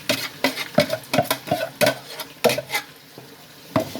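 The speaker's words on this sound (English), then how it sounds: "Now what I'm going to do is I'm just going to put them in and I'll be mixing" Shito ingredients are mixed in a pot taken off the fire, with a spoon scraping and knocking against the pot in irregular bursts, close and fairly quiet, alongside a faint sizzle.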